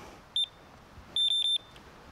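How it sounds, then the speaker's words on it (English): Electronic carp fishing bite alarm on a lakeside evening session, giving one short high beep followed by a quick run of three beeps, clear and close against quiet surroundings. "I'll put the alarm on."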